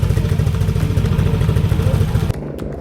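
A Honda Giorno scooter engine runs loud and close with a buzzing, clattering mid-range drone, then drops off sharply near the end as the scooter pulls away.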